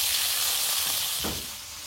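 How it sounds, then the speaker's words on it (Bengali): Potatoes frying in hot oil in a kadai, a dense steady hiss that softens slightly toward the end, with a brief stir near the middle and no voices. "আলুগুলো আগে ভেজে নেব।"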